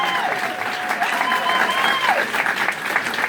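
A crowd applauds and cheers for a comic character arriving at a comedy show, the clapping sustained and loud, with a few voices and whistle-like calls rising over it.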